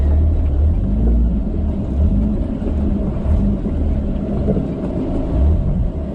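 A Geo Tracker 4x4 crawls slowly along a rocky off-road trail, its engine a steady low rumble that holds close and loud throughout with no talking.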